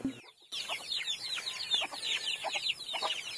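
Chickens cluck in a lively run of short, repeated calls, with a brief hush near the start and steady clucking close by through the rest.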